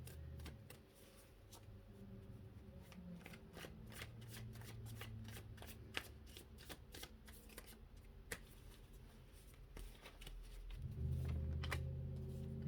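Lightseers tarot deck being shuffled, a soft, rapid riffle of card edges that patters on steadily for about eleven seconds, close and quiet, with a low murmur at the end.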